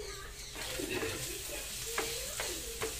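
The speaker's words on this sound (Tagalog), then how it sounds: "Gigisa na rin natin to." Ground meat sautés in a pan with a steady, quiet sizzle, broken by a few spatula scrapes and taps against the pan, heard close with no one talking.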